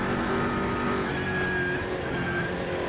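Race car engine in RaceRoom Racing Experience during a hotlap, a steady loud engine drone with faint whining tones held throughout, no pauses or talk.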